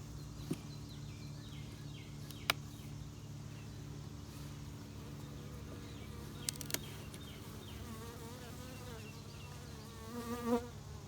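Steady buzzing of bees around a hive with sideways-built combs, a continuous close drone with individual insects passing near the microphone, a few faint knocks, and no talking.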